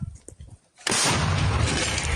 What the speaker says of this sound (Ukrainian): Це працює причимна гармата, Д-20.